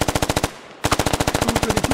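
Rapid automatic gunfire in the tactical shooter game Squad, a fast steady stream of close, loud shots broken by a brief pause before the burst resumes, with no talking.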